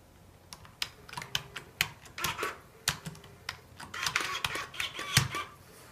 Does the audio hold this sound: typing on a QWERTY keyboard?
yes